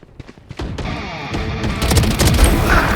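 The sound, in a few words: gunfire in the video game Valorant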